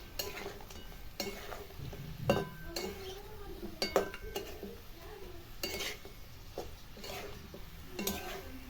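A spoon stirs ginger garlic paste in a cooking pot for chicken nihari, with scraping and clinks against the metal over a light sizzle, close by with irregular taps.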